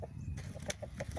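Backyard chickens eating black soldier fly grub treats give soft, short clucks in a quick irregular series, fairly faint over low background rumble.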